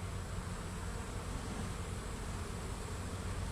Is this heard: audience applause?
no